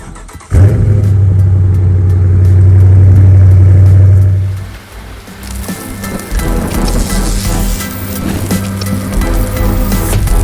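Dodge Charger R/T with the 5.7 V8 cold-starting: a sharp crank catches into a loud, high-idle roar that holds for a few seconds, then settles to a quieter, uneven rumble with faint background patter.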